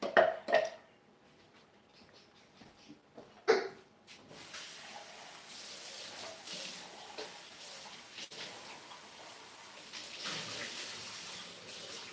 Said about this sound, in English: I need to actually quickly rinse this out